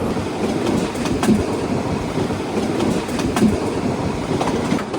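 A train rumbling along a mountain railway in Europe above 1200 metres, with steady clickety-clack of wheels over rail joints, close and continuous, no talking.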